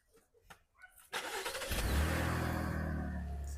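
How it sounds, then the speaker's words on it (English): A Buick Enclave engine fires up by remote start after a second of quiet handling sounds, cranking into a loud, steady idle that holds close by. "So as you can see, the remote start still works properly after plugging that in."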